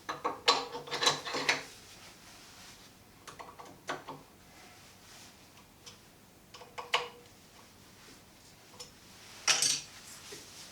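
Set screws are tightened into a handle with small metallic ratcheting clicks. They come in short clustered bursts separated by quiet pauses, close and fairly faint.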